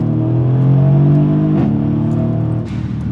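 Mercedes W218 CLS63 AMG with a modified exhaust and MCT 7-speed gearbox in Sport Plus, engine droning loud and close, then a quick downshift blip around midway with a rising rev and a burble as it settles.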